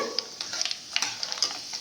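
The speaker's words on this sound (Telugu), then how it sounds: "ఇదిగోండి తాలింపు వేగింది" Mustard seeds and spices for an amla (Indian gooseberry) pickle tempering fry in hot oil while a spoon stirs the pan, giving a steady crackling sizzle broken by quick scraping clicks, close and moderately loud, with no talking.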